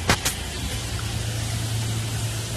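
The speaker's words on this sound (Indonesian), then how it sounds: "Yuk, Ini mobil." A car engine idles with a low steady hum after two sharp knocks at the start, a constant broadband rumble throughout.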